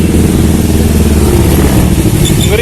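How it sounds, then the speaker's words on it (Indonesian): Motorcycle engine rumbling close by in congested Jakarta street traffic on Jalan Juanda, a loud continuous mid-pitched drone that swells slightly as it passes. "Ngeri ada motor ya"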